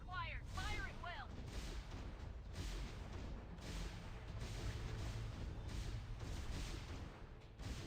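Gunfire and artillery in a battle in the video game Last Z: a steady run of faint, distant thumping blasts repeating at a roughly even pace beneath a low rumbling background.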